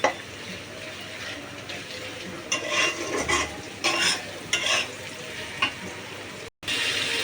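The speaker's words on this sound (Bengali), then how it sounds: "এখন আমি দিয়ে দিব এখানে মশলা" Spice paste is added to onions frying in a pan and stirred, giving uneven bursts of scraping and sizzling that rise and fall over a constant hiss of hot oil.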